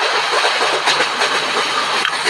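A train coach rolls along in a video game, heard from the rear camera view as a steady, dense rushing hiss with faint rhythmic clatter, continuous and fairly loud with no voices.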